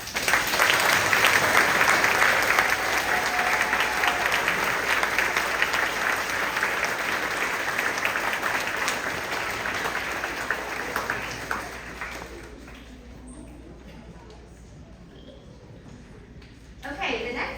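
Sustained applause from an elementary school audience at a fifth-grade awards day, honoring student award winners; dense clapping for about twelve seconds, then fading to quiet room tone with a brief stir at the end.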